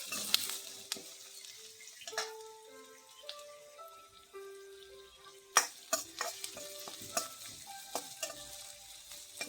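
Red chillies fry quietly in a pan, giving a faint sizzle with scattered stirring taps and clinks and some thin tonal squeaks, heard close but soft with no voices.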